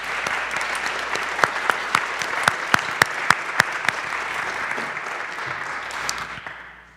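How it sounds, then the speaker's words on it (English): A church congregation at a parish annual meeting claps for several seconds to welcome the senior warden, a steady dense patter with sharper individual claps standing out near the middle before it fades. "let's give him a round of applause and a welcome"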